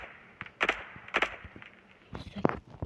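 An M41 rifle fires in a video game on a training range, giving a few sharp, separate shots at irregular intervals, with faint handling sounds between them.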